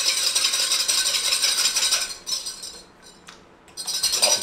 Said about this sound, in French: Je mélange énergiquement.